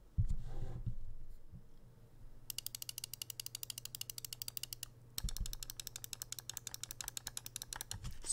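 A Razer Viper Mini gaming mouse clicks its left and right buttons in steady, rapid sequences of sharp, close ticks, two long runs split by a short pause, with a soft thump at the start.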